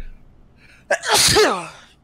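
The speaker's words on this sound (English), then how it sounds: "once that sneeze goes out of my body" A single loud, close sneeze bursting out after a brief sharp intake of breath, fading quickly.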